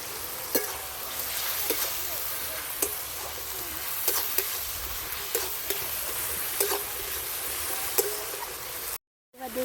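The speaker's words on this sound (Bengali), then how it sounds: "আমি বেটে রাখা রসুনটা দিয়ে দিচ্ছি।" Ground garlic paste added to browned onions in a pan, a low steady sizzle with periodic soft scrapes and stirs of a spoon, fairly quiet, with no voices.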